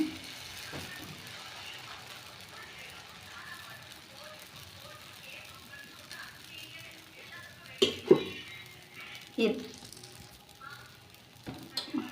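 A dosa cooks on a hot pan with a soft, steady sizzle, punctuated by a few sharp utensil scrapes and clinks near the end, while a person talks over it.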